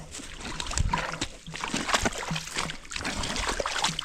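Water bubbles and gurgles out of a field drainage tile outlet into muck on a farm, irregular close sloshing splashes and trickling with no voices.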